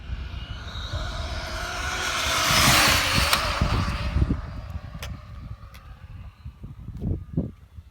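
An Arrma Infraction V2 RC car fitted with a high-speed pinion gear races past outdoors, its high whining motor rising to a loud peak and then fading, followed by scattered gravelly bumps and rattles.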